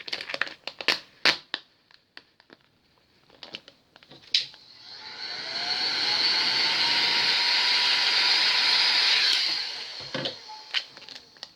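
Heat gun warming vinyl wrap on a curved surface, a steady loud blowing whoosh lasting several seconds between crinkling handling noises of the vinyl film before and after.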